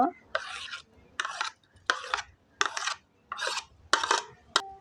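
Raw mango pulp is worked through a large sieve in about seven rhythmic scraping strokes, each a close, gritty rasp separated by brief pauses.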